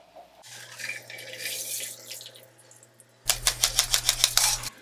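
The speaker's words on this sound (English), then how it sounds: "Let's go ahead and get this poured. We're going to be serving this up in a coupe." A Bee's Knees cocktail is poured into a coupe glass: a soft liquid pour, followed by a burst of rapid rattling that sounds like ice shaken in a cocktail shaker.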